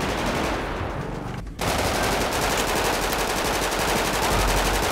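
Machine guns fire in GTA 5, long rapid bursts that stay loud and dense throughout, broken only by a brief pause near the start.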